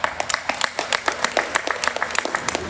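Scattered clapping from a small audience at a municipal housing investment announcement in Cobourg, sparse and uneven hand claps over a few seconds.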